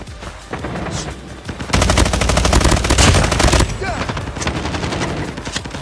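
RUS-79U SMG firing in Call of Duty Mobile: loud, rapid automatic bursts, with one long sustained stream of shots in the middle and shorter bursts around it, mixed with game effects.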